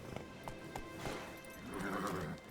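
Roach, the horse in The Witcher 3: Wild Hunt, gallops with quick rhythmic hoofbeats and a snorting whinny near the end, fairly close and moderately loud, with no talk over it.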